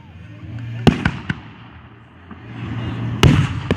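Fourth of July fireworks explode nearby in two loud, sharp bangs roughly two seconds apart, each followed by a crackling tail, over a low background rumble with faint voices.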